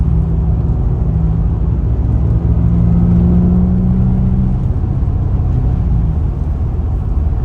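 A stage 2 Audi B5 S4 cruises on the interstate in fourth gear at light throttle, heard from inside the car as a loud, steady low engine drone with road rumble.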